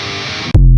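Distorted electric guitar playing palm-muted power chords for a Fortnite Festival song: a dense, gritty chugging burst, then a brief cut and a loud, heavy low chord that rings on alone.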